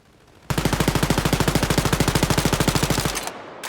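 A gun fires a rapid, steady automatic burst in the video game Wolfenstein: Youngblood, dozens of evenly spaced loud shots over about two and a half seconds, then stopping abruptly.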